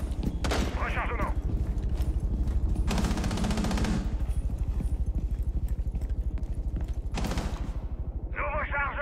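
Rapid automatic gunfire in a video game, a dense repeating stream of loud shots with brief bursts of voices and effects over it.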